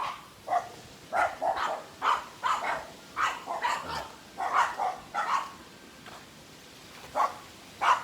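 Guard dogs bark in repeated loud bursts, several yelps and woofs in an irregular run with short gaps, close by and with no talk.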